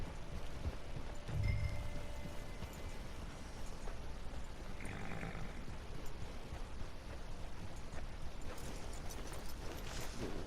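Horse hooves clip-clop steadily through a Red Dead Redemption 2 online session, a continuous rhythmic patter under a constant wash of background game noise with no voices.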